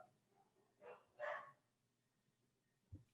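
A dog barks at home, a few short, fairly faint barks around the one-second mark with a lower thump near the end, set against a quiet room.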